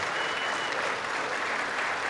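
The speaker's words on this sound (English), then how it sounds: "To a thunderous applause, we lose our rights." Sustained standing ovation from lawmakers in a legislative chamber, a dense unbroken wash of many hands clapping at steady volume throughout, with no voices standing out.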